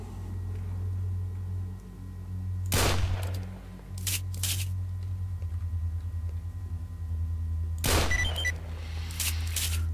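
Gunfire from the S.T.A.L.K.E.R. video game as monsters are shot: several loud, short bursts of shots stand out over a steady low in-game hum.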